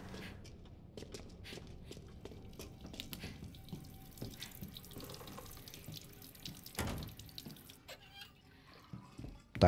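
A tap runs in Resident Evil Village, water splashing into a sink with irregular drips and gurgles, a few soft footstep-like knocks, and a louder splash near the end.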